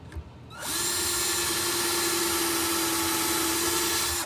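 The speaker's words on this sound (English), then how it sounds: "take my drill bit," A handheld power drill spins up and drills a hole in a workshop, a steady loud whine holding for several seconds before cutting off, with no talking over it.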